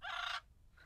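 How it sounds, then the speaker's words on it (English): A bird crowing in the video game Little Witch in the Woods, one short bright rooster-like call followed by a fainter second note, heard alone. "Oh, I hear the bird."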